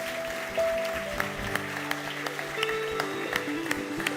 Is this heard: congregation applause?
yes